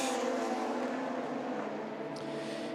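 A Ford race car, number 68, at the 2019 24 Hours of Le Mans gives a steady, loud engine roar with a sustained tonal drone, holding for about three seconds without a clear pass-by.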